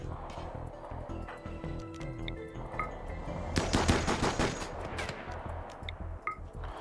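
Defensive turrets open fire on attackers in the colony-building game RimWorld, delivering rapid automatic gunfire in dense bursts that swell into a heavy volley midway, with a few scattered single shots and faint electronic blips around it.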